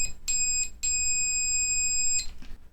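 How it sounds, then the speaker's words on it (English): Attiny85 resistance tester in diode mode testing a silicon diode gives short, high-pitched electronic beeps, clear and close, two brief tones followed by a longer steady one. "It's a short high frequency beep."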